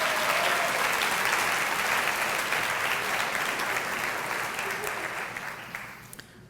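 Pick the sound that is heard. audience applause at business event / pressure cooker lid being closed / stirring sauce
audience applause at business event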